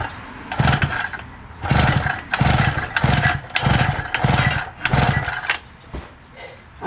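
A mud bike engine cranked repeatedly by its pull-start recoil, six or so close, loud rasping pulls in a steady rhythm, each a churning burst of compression that never catches.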